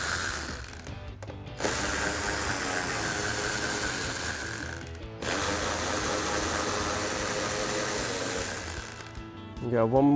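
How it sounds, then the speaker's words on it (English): Ratchet wrench with a 7mm socket loosening fog light bolts on a Jeep Gladiator JT front bumper, a steady close clicking rattle that runs in two long stretches with brief pauses. "We're going to remove with a 7mm socket."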